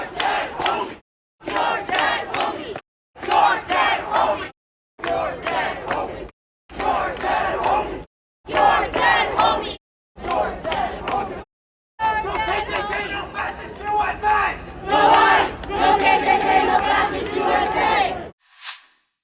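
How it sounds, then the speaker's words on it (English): A crowd chanting in loud, rhythmic bursts, repeated short phrases separated by brief silences, turning into a longer sustained chant near the end. "the crowd is chanting, and they're chanting about Charlie Kirk"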